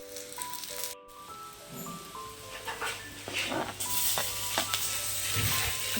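Tomatoes frying with browned onion in a pan for sandgyachi bhaji, a steady close sizzle with soft rattling stirring sounds that grows louder and brighter partway through.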